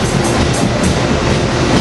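A rush-hour commuter train pulls through Cornwells Heights station led by a cab car, with a locomotive pushing from behind. Its loud, continuous rumble and wheel noise fill the whole stretch, close by and unbroken.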